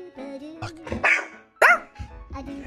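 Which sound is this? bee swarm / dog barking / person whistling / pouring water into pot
dog barking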